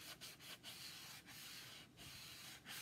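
Steady scratchy hand-sanding around the edges of a wooden sign, a continuous rough rubbing broken by a few brief pauses, close up and with no talking.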